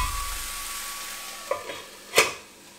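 Ivy gourd stir fry cooking in a pan, a soft steady sizzle with a few clinks and one louder scrape of the utensil stirring the pan near the end.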